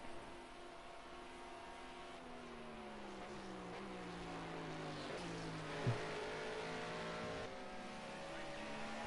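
An LMP prototype race car passing on track at Spa during an endurance race, its engine note rising and falling under a steady drone of other cars, fairly distant.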